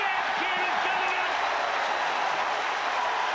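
Stadium crowd at a 2010 St Helens v Huddersfield Giants rugby league match cheering a try, a steady, loud roar of many voices throughout the clip without a break.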